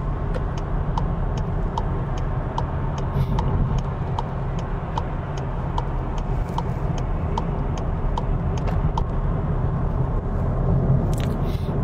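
Tire and road noise inside a VW Passat GT sedan driving on rough pavement, a continuous dense rumble and hiss with a faint regular ticking running throughout, no talk.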